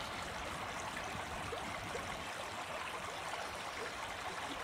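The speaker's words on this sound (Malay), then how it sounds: "Wah, cantiknya sungai ni." A river flows steadily in an outdoor setting, a constant broad rushing and gurgling wash of water at even loudness throughout, with no voices.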